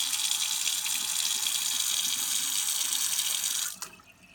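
Water runs steadily from an IKEA YTTRAN chrome tap into a HAVSEN sink, a loud, even hiss lasting several seconds before cutting off abruptly near the end, leaving only faint room tone.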